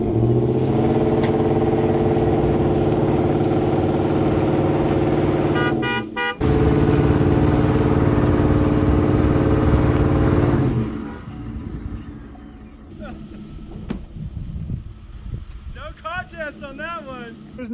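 Ford F150 and Toyota Tacoma pickup engines straining in a 4x4 tug of war, a loud sustained droning roar that cuts off abruptly, followed by lower rumbling, engine bursts and a chirping squeal.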